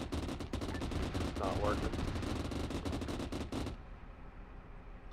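Dense, sustained gunfire crackles in Arma 3 during a tank battle near a bridge. Loud overlapping shots pile on each other for several seconds under a brief spoken remark, then stop suddenly, leaving a quiet hum.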